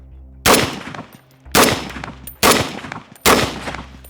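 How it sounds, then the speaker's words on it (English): A Springfield SOCOM 16 CQB .308 rifle, a short M-14 variant, fires four loud, close, unsuppressed shots at roughly one-second intervals, each crack followed by a brief echoing tail. "when you're shooting it, the recoil is really right back in your shoulder"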